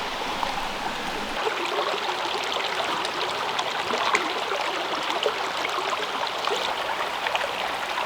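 A brook flows steadily over stones on a flat section of highland stream, a continuous close rushing and trickling wash with no voices.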